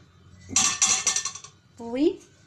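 Ceramic plates and dishes clink and clatter together at close range in a busy burst, followed by a brief rising scrape or ring, with no voices.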